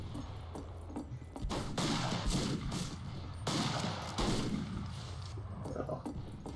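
Mare's Leg lever-action gun in Fistful of Frags, several loud, sharp shots spaced a second or so apart, each with a booming tail, and faint game ambience between them.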